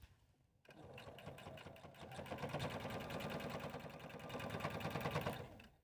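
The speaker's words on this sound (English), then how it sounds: "we're gonna go sew this opening closed" A sewing machine stitches a bag's turn opening closed, running steadily at an even pace for about five seconds after a brief quiet start, close and clear with no talking.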